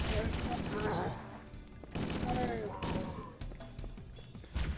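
Heavy gunfire bursts from the Halo: Combat Evolved video game, sustained and loud, with overlapping shots and thuds in a busy battle mix; speech-like game chatter sits underneath.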